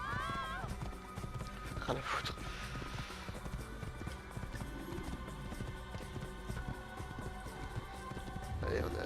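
A horse gallops in the video game Assassin's Creed, with steady rapid hoofbeats running throughout under a speaking voice and game ambience.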